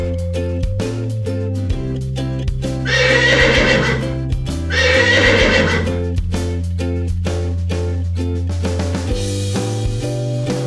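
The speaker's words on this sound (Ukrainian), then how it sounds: "це кінь" A horse neighs loudly twice, each whinny a few seconds long with a short gap between, over continuous background music.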